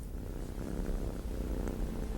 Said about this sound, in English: we don't gnaw on our kitty. Leave Mini Mr. Bigglesworth alone. Just love him, stroke him